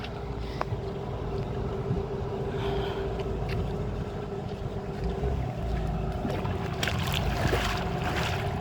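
A boat engine drones steadily as the hull moves through water, with washing and splashing noises rising toward the end; no talking.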